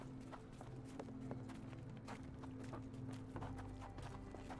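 A horse's hooves clip-clop in a steady, quick rhythm in the Sherlock Holmes The Awakened video game. The hoofbeats are faint and sit over a low background hum.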